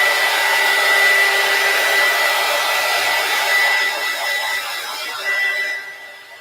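A hair dryer blows steadily and loudly at close range, a continuous airy roar with a faint whine that gradually fades toward the end.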